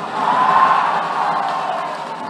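A political rally crowd at a Barisan Nasional campaign launch in Terengganu claps and cheers in a steady, dense roar, with a thin whistle-like tone riding above the noise throughout.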